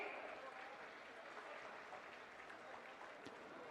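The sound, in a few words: audience applause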